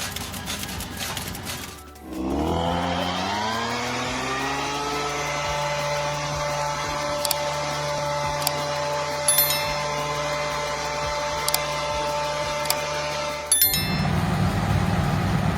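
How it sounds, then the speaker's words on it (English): A John Deere harvester and tractor working a field in South Dakota: the engine revs up sharply at first, then settles into a steady, close droning roar with a whining tone, running alone until it cuts off abruptly. "The John Deere harvester and tractor are still rocking the fields in South Dakota, pure farming power at its finest."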